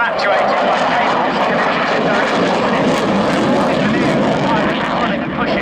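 A MiG-29 fast jet flying a display at Yeovilton Air Day, its broad, steady engine roar loud and sustained throughout, with a public-address commentator talking over it.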